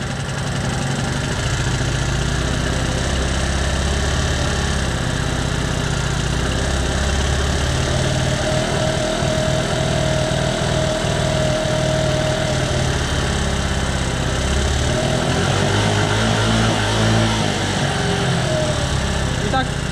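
Five-year-old scooter with 26 km on it and a carburetor that floods and blows grey smoke, its small engine idling in a loud, steady, close drone for about twenty seconds with slight shifts in pitch.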